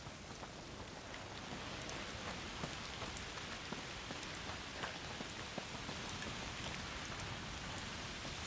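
Steady, dense rainfall in the dark medieval world of A Plague Tale: Requiem, a continuous hiss of drops spattering on surfaces with scattered sharper splats, fairly close and unbroken, with no voices over it.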